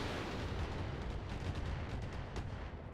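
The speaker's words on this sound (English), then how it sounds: "Incoming missile barrage on the Hellhound." A missile barrage in the video game RogueTech (BattleTech) rumbles as a dense, continuous roar of explosions, loud and low, with faint sharper impacts over three seconds.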